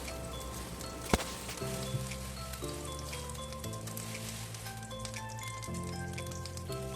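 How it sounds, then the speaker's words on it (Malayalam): Bread slices fry in butter in a pan with a soft, steady crackling sizzle, partly masked by background music, and one sharp knock comes early. "നമ്മൾ ബ്രെഡൊക്കെ ഒന്ന് പൊരിച്ചെടുക്കാൻ വേണ്ടി കുറച്ച് ബട്ടറാണ് കേട്ടോ ചേർത്ത് കൊടുക്കുന്നത്"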